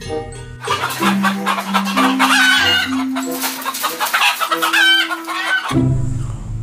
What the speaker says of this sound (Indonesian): Wow, ini ayam teman-teman.